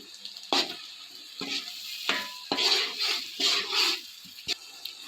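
A spoon stirring tomato puree into egg biryani masala in a pan, with a series of wet scraping strokes and light sizzling, close up and without talk.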